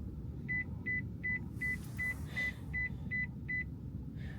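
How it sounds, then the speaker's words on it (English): A 2025 Toyota Land Cruiser sounds a series of about nine short, evenly spaced electronic beeps when locked. They ring out clearly over a low, steady background rumble, with no talking. "now I'm gonna lock the vehicle, and it's gonna beep like 5 times."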